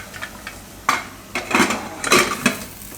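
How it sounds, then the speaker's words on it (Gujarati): Metal clatter of a pressure cooker lid being fitted and shut in a home kitchen while cooking a Gujarati yam and eggplant curry: several sharp clanks and scrapes, close and fairly loud, with no talking. "હવે કુકરનું ઢાંકણું બંધ કરી દે."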